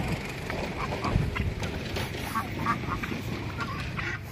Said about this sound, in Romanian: Ați văzut cum a zburat acea gâscă?